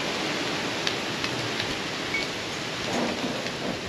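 Steady heavy rain pours across a broad outdoor space with faint low rumbles of thunder beneath, a continuous even hiss with no voices over it.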